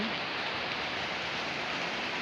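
Rain falling outside a house, a dense, even hiss of drops that holds steady and fairly loud from start to finish with no voices.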